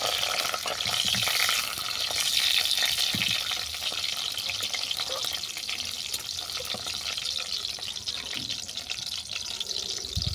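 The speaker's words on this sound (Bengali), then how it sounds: "ফোড়ন ভালো করে ভেজে নেওয়ার পর দিয়ে দিলাম কাঁচা আম। আমটাকেও ভালো করে ভেজে নেব।" Raw mango pieces fry in spiced oil for a bata fish curry, a steady close sizzle with some wet stirring noise that runs unbroken and without voices.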